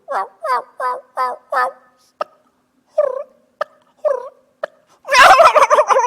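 A person imitates a turkey, with a run of five rapid gobbling calls, then scattered single calls, ending in a longer burst of gobbling.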